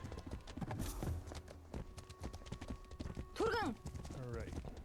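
A horse runs fast in the video game The Legend of Khiimori, with quick rhythmic hoofbeats and a brief whinny partway through.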